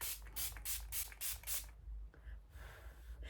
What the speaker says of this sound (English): let's spray it with this